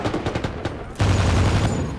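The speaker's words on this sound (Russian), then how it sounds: "звук замечательный. У оружия, у взрывов" Rapid gunfire in Medal of Honor 2010 multiplayer: a string of sharp close shots, then a loud heavy blast with a rumbling tail, all without talk.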